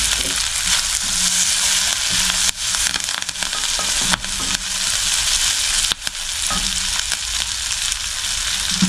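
Papaya curry cooks in a pan with a continuous crackling sizzle, punctuated by a few brief clatters and stirring knocks, close and fairly loud.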